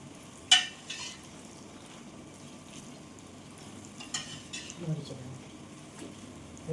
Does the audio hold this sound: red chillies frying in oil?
yes